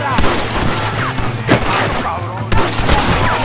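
Gunshots crack through a Red Dead Redemption western shootout, a few loud sharp reports over a constant low hum and busy background din, with shouting voices mixed in.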